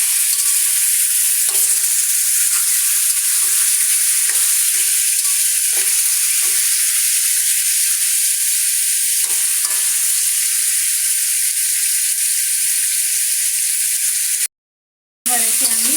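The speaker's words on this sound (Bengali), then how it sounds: "গোশতটাকে আমি একটু হালকা ভেজে নিই।" Beef pieces lightly frying in a pan for a green jackfruit and beef curry, a loud, steady hiss of sizzling oil with intermittent stirring scrapes, cut by a brief dropout near the end.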